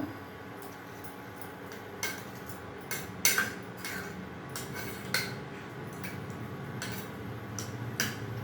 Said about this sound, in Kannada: ಇದು ಮೆಂತ್ಯ ಸೊಪ್ಪು ಬೇಳೆ ಎಲ್ಲ ಈ ಥರ ಮಾಡ್ಕೋಬೇಕು, ಮಸ್ಕೋಬೇಕು ಅಂತಾರೆ